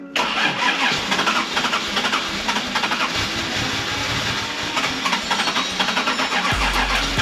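An old barn-find car engine cranks over and over without catching, a loud, steady, rhythmic churning that runs nearly throughout, dropping away near the end.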